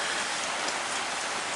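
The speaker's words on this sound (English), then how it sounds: "and of course it's raining" Steady rain pours on a boatyard on a Saturday afternoon, a dense, even hiss of drops with no pauses.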